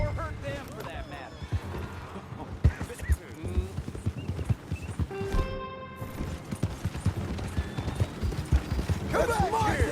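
Hoofbeats clip-clop from a horse in the Western video game Red Dead Redemption 2, mixed with a busy layer of game sounds, music, and speech that keeps them from standing out.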